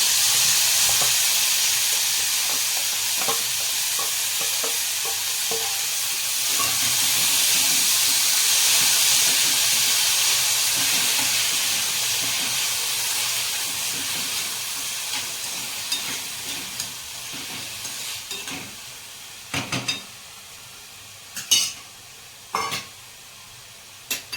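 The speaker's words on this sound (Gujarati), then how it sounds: "હવે આપણે લસણ નાખીશું." Green garlic frying in a hot pan, a steady broad sizzle and hiss lasting a long while, easing off toward the end, where a few sharp stirring clinks break through. No voices.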